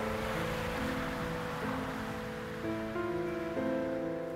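Beach surf rolls in as a steady, washing roar of waves, fairly faint, with a soft tonal hum layered over it and no one talking.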